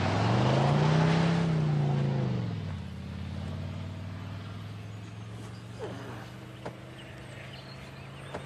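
An old car engine cranks and revs loudly, its pitch rising then falling as it catches, before settling into a quieter steady idle with faint clicks and knocks.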